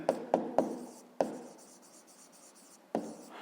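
Pen or chalk writing down a math answer for a fifth-grade exercise, a few sharp scratchy strokes in quick bursts with pauses between, close and alone.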